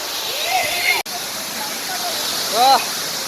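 A steady rush of falling water from a low-flowing waterfall in summer fills the background while a voice talks over it, with a short sharp break near the start.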